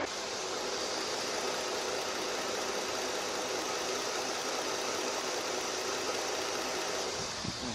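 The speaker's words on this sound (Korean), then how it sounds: "엔진 소리 가장 중요하죠 제일 먼저 들어보도록 하겠습니다" A Lincoln MKX 3.7 AWD engine idles steadily nearby, an even mechanical hum with a faint rattling texture that never changes pace.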